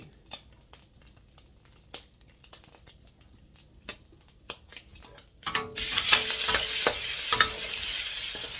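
Pork seasoned with salt and pepper frying for fried rice: light clinks and scraping at first, then a loud, steady sizzle that fills the second half.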